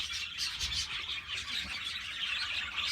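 A male Classic Oriental Frill pigeon calls in a loft, giving soft, squeaky, breathy coos that repeat continuously over steady faint background noise, fairly close.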